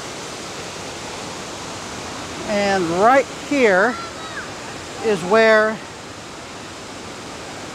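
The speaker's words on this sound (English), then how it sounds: "I have made it to the top of that waterfall." Constant broad roar of rushing water at the top of a waterfall along I-93/US-3 in New Hampshire, steady and close throughout, with someone talking over it in the middle.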